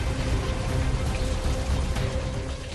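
Heavy rain in Chennai brought by Cyclone Nivar, a steady dense hiss of downpour pouring and spattering on surfaces, loud and continuous throughout with no voices.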